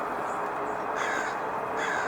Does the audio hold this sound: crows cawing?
yes